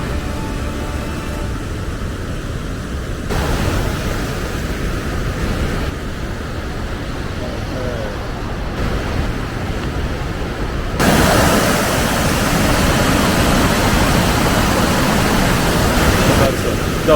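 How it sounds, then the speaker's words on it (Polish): Langfossen, a tall waterfall in Norway that pours down almost onto a road, gives off a loud, continuous broadband roar that stays steady and swells near the end, with no talk. "to jest Langfossen, wodospad, który niemalże się wlewa na tą ulicę"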